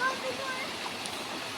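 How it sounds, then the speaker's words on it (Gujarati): Dhareda waterfall in Banaskantha, near the source of the Saraswati river, gives a steady, even rush of falling water that holds at a moderate level throughout. "આ છે આપણે બનાસકાંઠાની અંદર આવેલો ધરેડાનો ધોધ"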